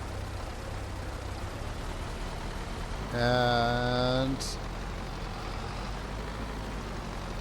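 A tractor engine in Farming Simulator 22 drones as a steady low rumble throughout, with a voice speaking briefly over it midway.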